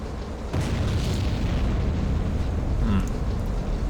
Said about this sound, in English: Boiler explosion.